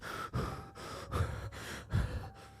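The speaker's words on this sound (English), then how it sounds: "there's a lot of panting going on here" Heavy, ragged panting in a dark, tense setting, several loud breathy bursts in an uneven rhythm, close and with no speech over them.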